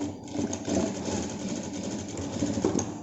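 Sewing machine running steadily while stitching down the pleats of a stacked box-pleat skirt, a close, continuous mechanical whir with small surges in speed and no talk.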